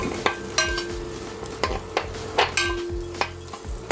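Garlic and onion sizzling in hot oil in a pot, with a soft continuous hiss broken by sharp clinks and scrapes of a utensil stirring against the metal, close and fairly loud.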